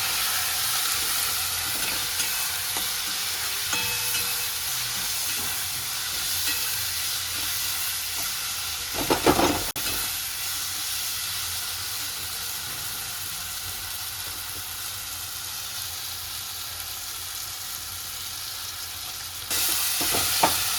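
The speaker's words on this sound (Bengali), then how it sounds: "লঙ্কার গুঁড়ো, এই মশলাটা ভালো করে ভেজে নেব।" Chili powder and coriander powder spice mix frying in oil in a pan, a steady close sizzle and hiss running throughout, with a brief stirring scrape around the middle and a slight rise near the end.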